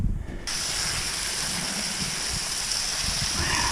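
Water sprays hard from a blown-off strawberry irrigation drip tape in a field, a loud, steady hissing gush that holds without a break.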